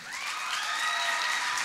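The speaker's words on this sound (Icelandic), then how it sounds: "Gefum henni gott klapp, Andrea Pétursdóttir!" Audience applause for a young singer, Andrea Pétursdóttir, at the Tónkvíslin 2016 school song contest, a steady wash of clapping from a crowd that holds at an even level throughout.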